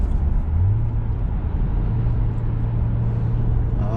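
A Genesis G70 sports sedan's 3.3-litre turbo engine idles in Sport Plus mode, a steady low rumble with a constant hum that settles at a slightly raised pitch, heard close and alone throughout.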